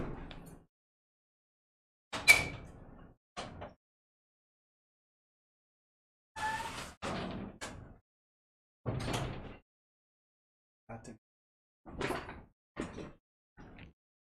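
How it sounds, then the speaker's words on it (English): A door opening and closing during a live online Q&A stream, several separate knocks and thuds with footsteps-like bumps spaced across quiet gaps, fairly faint. "there's someone at the door."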